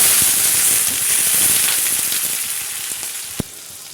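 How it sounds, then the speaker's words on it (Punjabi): Garlic tempering (tadka) for dal in a hot pan on a wood-fired hearth, giving a loud, close, continuous sizzle with crackles and spits that eases slightly toward the end, with one sharp tap near the close. "ਹੁਣ ਆਪਾਂ ਲਾ ਲੈਂਦੇ ਆ ਜੀ ਤੜਕਾ ਮੈਂ ਕਿਹਾ ਚਲੋ ਤੜਕਾ ਲਾ ਲੈਣੀ ਆ"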